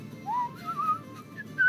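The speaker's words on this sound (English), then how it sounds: "The ogre's just whistling to himself as he's getting his work done." Someone whistles a short, wandering tune of sliding notes, close and fairly soft, over a low background hum.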